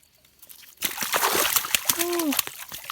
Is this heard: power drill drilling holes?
no